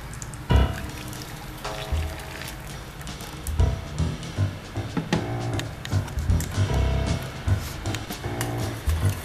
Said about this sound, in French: on va le reverser dans la casserole et remettre sur le feu